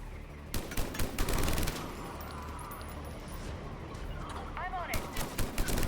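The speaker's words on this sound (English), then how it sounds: "Such a powerful gun." A powerful gun firing in Mass Effect Legendary Edition, a series of heavy blasts in two clusters, at the start and near the end, with a rumbling lull between and some electronic whines.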